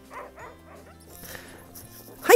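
Sled dog at an Iditarod finish area in Alaska, giving a few short yips and whimpers at moderate distance, with faint background noise and a louder burst at the end.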